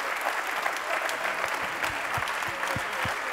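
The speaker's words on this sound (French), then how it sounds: "Merci de les applaudir encore." An audience at a staged French event claps steadily for the full stretch, a dense close wash of applause with no pauses.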